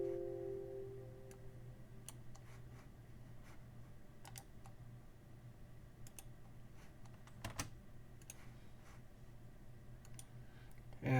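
Computer mouse clicks while sketching a rectangle on a face in 3D CAD software, appearing as sparse, soft, close single clicks spread at irregular intervals over a low steady hum, with no talking.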